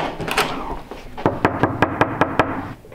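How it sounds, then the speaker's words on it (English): A door is knocked on with a firm run of about eight evenly spaced raps, close and distinct, following some faint background noise; set in lodging on a trip to Mexico City. "I'm gonna go and give them a knock"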